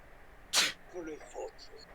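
A character in the video game Persona 4 Golden gives a single sharp sneeze, followed by faint in-game speech and sounds at low level.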